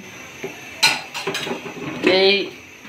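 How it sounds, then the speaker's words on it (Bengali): A metal frying pan is set down on a lit kitchen stove, giving a few sharp clanks and scrapes in quick succession, close and moderately loud against a quiet room. "এই যে ফ্রাই প্যান বসাই দিয়েছে, চুলা আগুন জ্বলতেছে।"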